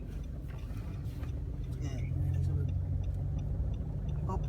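A pickup truck's engine hums steadily while driving, rising slightly in loudness midway, with a driving instructor talking over it.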